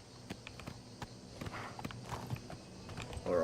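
Hooves of a white horse clip-clopping in the video game Oblivion Remastered, a quick, fairly faint, steady trot of repeated footfalls.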